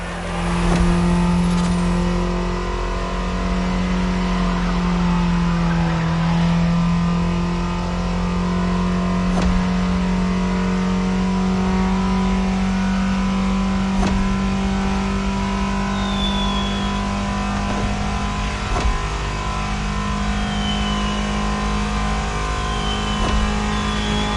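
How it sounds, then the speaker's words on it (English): A steady Mini Cooper engine hum with occasional revving and shifting tones in a PS4 racing game, continuous and fairly loud, with no talking. "it starts with Liberty Nation, with the return of the Mini Cooper."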